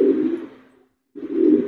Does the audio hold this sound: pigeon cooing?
yes